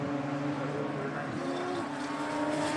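Radical race cars at Snetterton roar past in a sustained, buzzing engine drone, fairly steady and moderately distant, with no voices over it.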